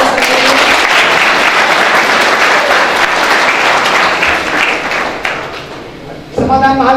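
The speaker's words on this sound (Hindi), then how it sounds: "एक बार मैं सम्मान और ताली चाहूंगा माननीय आलोक सर के लिए।" Seminar audience bursts into loud, sustained applause that holds steady for about six seconds before thinning out, then a voice starts up near the end.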